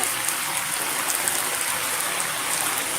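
Heavy night downpour pours steadily in a dense, even hiss of rain striking surfaces, loud and unbroken throughout with no voices.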